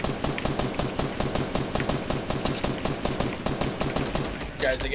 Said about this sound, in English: We're getting shot at from the west.